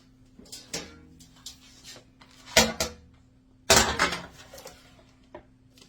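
Thin rolled-out chicken being laid onto a pan for chicken chips, with a few scattered clanks and knocks of cookware close by, two of them loud and sharp among quieter taps.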